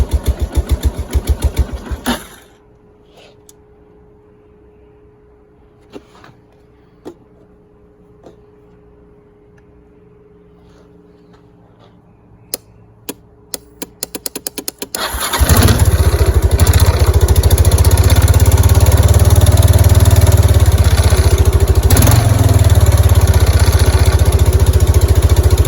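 A Kawasaki Prairie 300 ATV engine idles with a loud, steady rumble that starts abruptly partway through, after a quiet stretch broken by scattered faint clicks.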